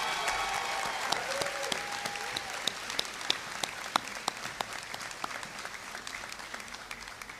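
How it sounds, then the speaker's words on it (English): Audience at a law school hooding ceremony gives a round of applause, steady moderate clapping from a hall crowd that carries on throughout without fading. "Round of applause."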